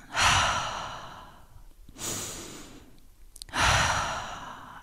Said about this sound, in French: c'est juste une grande inspiration, une grande expiration